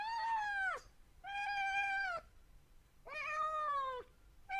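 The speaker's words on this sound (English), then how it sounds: "It was just a cat meowing." A cat meows three times, each call drawn out and tonal with a falling end, clear and close against a quiet background with short pauses between calls.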